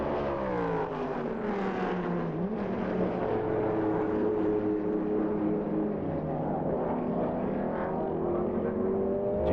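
Le Mans race cars during 1999 qualifying, engines droning loudly as they pass with shifting pitch and overlapping passes, heard without talk.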